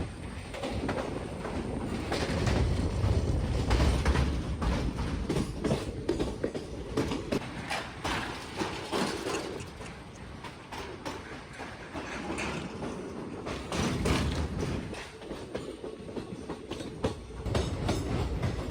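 A train runs along the Sakleshpur to Kukke Subramanya rail route through tunnels, giving a steady, loud rumble with rhythmic clickety-clack of wheels on rail joints and swelling, fading surges throughout.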